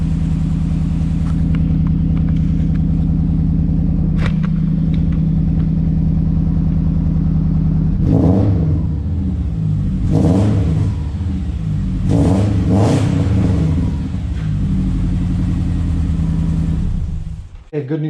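A Subaru Impreza Blobeye engine, fitted with a new exhaust and still warming up, idles with a steady rumble before several sharp revs rise and fall in quick bursts, loud and close.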